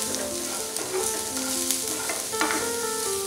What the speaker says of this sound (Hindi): इसे भी हम 1 मिनट तक फ्राई कर लेंगे।